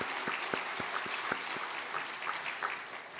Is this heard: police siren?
no